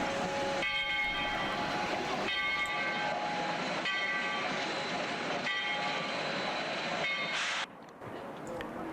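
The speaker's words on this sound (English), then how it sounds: "On our visit we were taken behind this Shay locomotive." A Shay steam locomotive works along the Georgetown Loop Railroad, giving a steady loud rumble of engine and rail noise with tonal whistle-like harmonics for most of the run before dropping away near the end.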